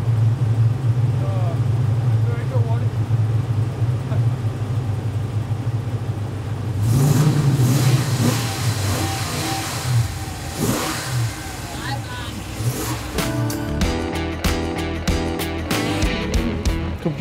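A large school-bus conversion's engine, a 4-litre, 400-horsepower unit, runs at a steady rumble, then swells into a loud rev with whirring and mechanical clatter that continues as people talk nearby.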